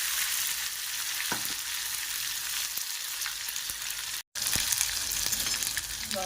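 A masala tadka sizzles hard in a hot pan for egg curry, giving a loud, steady frying hiss with a few small clinks of stirring and one brief cut to silence midway.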